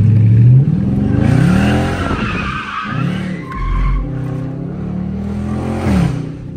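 A Dodge Charger RT drifts sideways around a corner, with loud, sustained tire squeal and skidding over a revving engine that rises and falls, close and dominant throughout.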